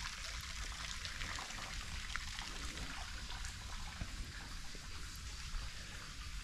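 A waterfall pours from a bell-shaped stone excavation at an ancient Japanese megalith site, a steady, even rushing and splashing wash, faint and continuous without voices.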